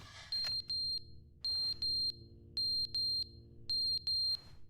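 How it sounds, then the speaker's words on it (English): A smoke alarm in The Stanley Parable Ultra Deluxe gives sharp, high electronic beeps in evenly spaced groups of three, repeating four times and sounding clear and steady against a quiet background. "Smoke alarm's going off."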